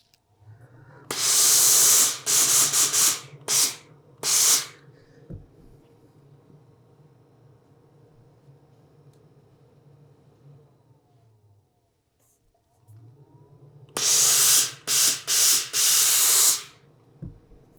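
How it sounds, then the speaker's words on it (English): Steam iron pressing the shoulder seams of a knit dress, giving several loud bursts of hissing steam near the start and again near the end, with a low steady hum between them. "Then we need to press our shoulder seams."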